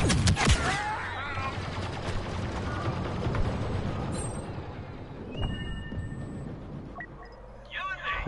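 Rapid blaster-style gunfire from Star Wars Battlefront on PS4 crackles in dense bursts, loudest at the start and fading into busy game noise, with someone speaking over the action.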